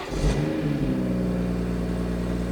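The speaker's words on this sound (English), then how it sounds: "Now we're going to try and start the car, see how that sounds." A crash-damaged BMW M140i engine cranks and catches with a quick rev, then settles into a steady, close idle hum.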